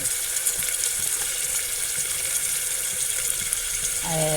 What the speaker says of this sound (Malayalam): ഇതെല്ലാം നല്ലതുപോലെ വഴറ്റണം